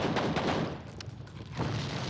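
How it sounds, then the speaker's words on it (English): Explosion in the video game F.E.A.R. Extraction Point, a dense, loud crackling blast with gunfire-like bursts that dips briefly and then surges again, with no one talking. "Just gonna wait for that explosion."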